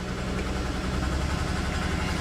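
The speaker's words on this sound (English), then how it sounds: "Give it a few revs, see if we can clear it up a little bit" A worn, high-mileage C4 Corvette engine with a rough misfire runs close by, a dense uneven rumble that stays steady and loud across the short stretch, with no talk.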